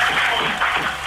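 Children applauding in a radio studio during a morning show, a steady dense wash of clapping that fills the whole moment without pause.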